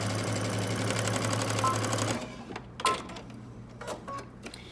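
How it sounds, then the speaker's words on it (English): A sewing machine stitches around a pocket on Simplicity 8558 shorts or pants, humming steadily and close for about two seconds before stopping, followed by a few sparse clicks and handling sounds. "And now I'm going to sew around the pocket."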